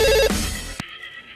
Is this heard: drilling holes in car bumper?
no